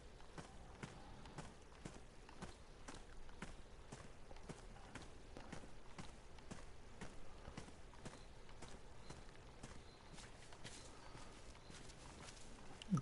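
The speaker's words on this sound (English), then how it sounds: "Listen to the footsteps on the gravel." Footsteps crunching on gravel in the survival game DayZ, a soft, regular series of crunchy steps at a steady walking pace, quiet and without talk.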